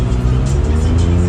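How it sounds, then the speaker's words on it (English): A car engine with a worn exhaust idles and hums with a rough, rumbling exhaust note, steady and close, with no talking. "As you can hear, it clearly needs some exhaust work"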